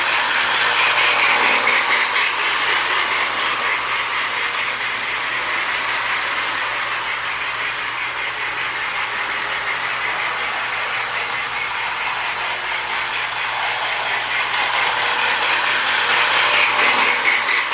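A Marx Crooks O-gauge toy locomotive with a sound unit runs on track, producing a continuous close mechanical whirring and rattling clatter at steady volume with no speech.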